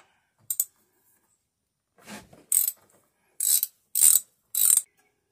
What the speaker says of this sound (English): We got a 7/16 nut right here to take off.